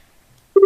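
A phone call tone starts abruptly after near silence, a loud steady pulsing beep close to the handset.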